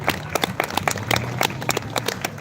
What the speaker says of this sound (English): So give your guys a round of applause right now